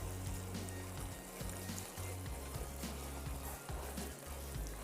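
Sugar syrup with fennel seeds bubbling and sizzling in a karahi pan, a steady close frying hiss with low rumbling boil that continues throughout without talk.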